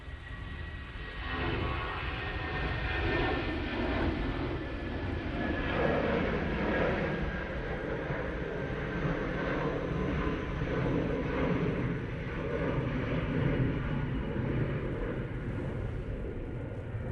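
An Airbus A320ceo jet departing Manchester Airport for London roars steadily and loudly through its takeoff run, a broad continuous engine rumble that holds strong for the whole stretch with no talk over it.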